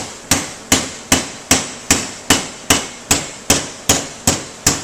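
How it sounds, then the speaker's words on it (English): A hammer strikes a metal lip on a sheet-metal cleat in a steady series of about eleven sharp, evenly spaced blows, each ringing briefly before the next, close and loud with no talk. "Now all I want to do is just gently hammer that over."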